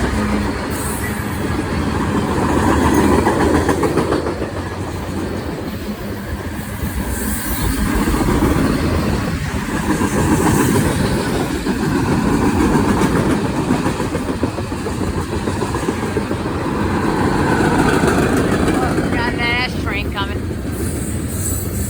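A Norfolk Southern 23M container train rolls past with a GEVO locomotive leading and a Union Pacific unit second, a loud sustained rumble of engines and wheels with rail clatter and a brief squeal near the end.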